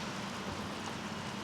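Steady rain falls on a city street at a red traffic signal, an even, close hiss of drops that holds unbroken for the whole stretch with no voices.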